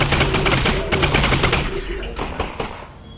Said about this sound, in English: Give the submachine gun again.